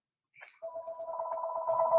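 A telephone rings indoors at a crafting table, a steady electronic ringtone that starts after a brief rustle and keeps repeating, fairly clear and close, with no talk over it.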